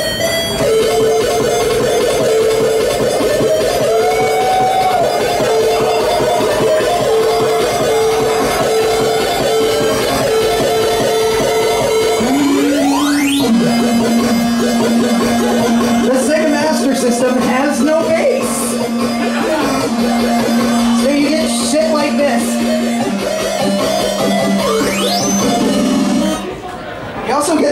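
Sega Master System sound-chip music plays loudly in a live convention setting, with bright square-wave tones, a long rising pitch sweep midway and steady bass notes.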